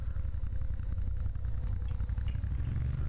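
A motorcycle engine drones with a steady low rumble while it rides in Tomb Raider: Underworld. It sounds close and even throughout, with faint clatter over it and no talking.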